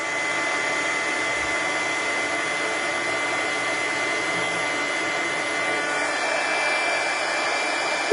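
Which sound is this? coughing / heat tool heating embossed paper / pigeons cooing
heat tool heating embossed paper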